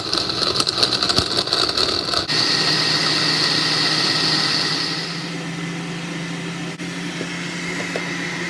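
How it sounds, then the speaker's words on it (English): Blender whirring as it blends ginger for a watermelon, Jamaican apple, ginger and lemon juice, loud steady motor with a high whine that eases after about five seconds and continues at lower pitch. "I'm gonna blend my ginger first."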